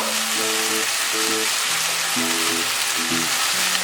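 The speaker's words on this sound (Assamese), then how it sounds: "শাকখিনি অলপমান ভালদৰে ভাজিব লাগিব।" Fiddlehead fern (dhekiya) greens frying in a pan, a loud, dense and unbroken hiss of oil sizzle, with faint tonal hums in the background and no speech.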